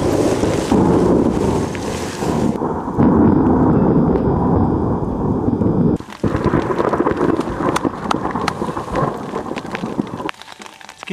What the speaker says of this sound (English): Every few minutes you just see the flash and then the crack of the thunder.